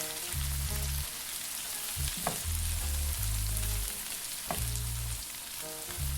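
Curly parsley stirred in a hot pan taken off the heat for a chicken and rice white sauce, steady close sizzle with low rhythmic scraping strokes and a couple of sharp clinks.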